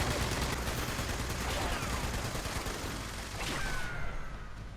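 Continuous turret gunfire in the video game Fallout 76, a dense, unbroken rattle of rapid shots filling the whole stretch at moderate loudness, with faint whooshing streaks passing through.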